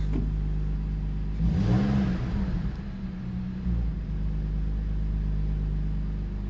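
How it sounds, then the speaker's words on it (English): A BMW E46 convertible's engine cold-starts, cranking and catching, revs briefly, then settles into a steady low idle rumble. "that's a good cold start. That's a very good cold start."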